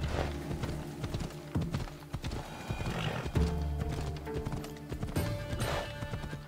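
Hoofbeats of a galloping horse in Assassin's Creed Odyssey pound in a quick, uneven rhythm, with snorts and a neigh mixed into busy game sound, loud and close.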